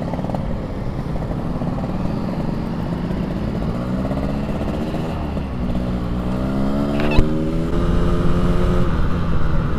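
Yamaha RX King two-stroke motorcycle being ridden, its engine droning loud and close with rising and falling revs over steady road and wind noise, no talking heard.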